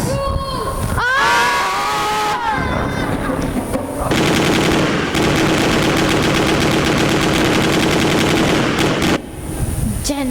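Gunfire effect for soldiers firing on a crowd in a school theatre play about Bhagat Singh: a loud, sustained burst of rapid machine-gun fire with screaming voices mixed in, preceded by short shouts.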